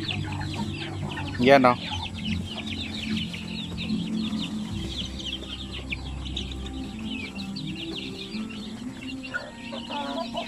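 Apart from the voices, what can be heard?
Basilan chickens clucking without incubator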